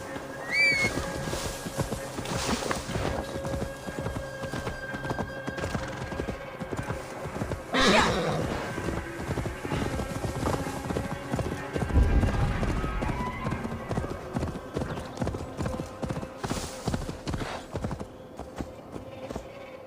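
Horse hooves clip-clop steadily with whinnies breaking through in Assassin's Creed Valhalla, as Eivor delivers a horse to Magni near Grantebridge, set over a game music bed with a brief louder rumble midway.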